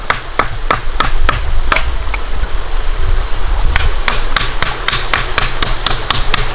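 A survival knife repeatedly cuts diagonally into thick wood, producing a run of sharp, evenly spaced taps and chops up close over a low, steady background rumble.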